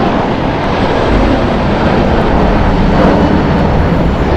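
A 22-year-old United Airlines Boeing 757-300 jet departs LAX, its engines producing a loud, dense, unbroken roar that stays even across the whole stretch.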